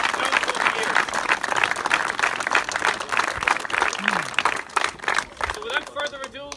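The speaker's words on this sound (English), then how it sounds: "I'd like you to give them a round of applause" A crowd at a Castlebar football club gathering applauds the sponsors Elverys, a loud, dense clapping that fades out near the end while a voice begins talking over it.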